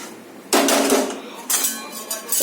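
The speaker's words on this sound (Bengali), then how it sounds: "কড়াইটা নিয়ে আসছি।" Metal wok lifted and set down in a home kitchen, giving two bursts of clanking, scraping metal against a quiet background; no talk.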